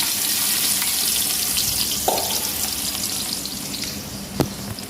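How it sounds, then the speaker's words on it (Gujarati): Onion frying in hot oil with mustard seeds and cumin, a steady close sizzle with a soft crackle and one or two sharp pops, alone without voices. "ડુંગળીને થોડીક તેલમાં શેકાવા દઈ"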